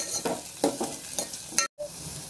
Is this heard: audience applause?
no